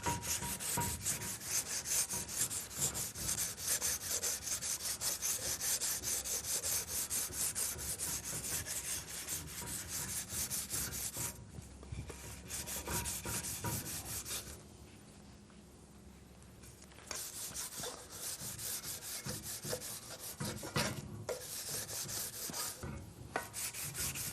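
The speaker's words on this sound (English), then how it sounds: "Now I'm going over this deck surface. I'm just trying to get rid of any of the surface rust, find any nicks or burrs." Abrasive rubbing over the deck surface of a cylinder block to clear surface rust: a steady, close, continuous rasping scrub that eases briefly midway before resuming.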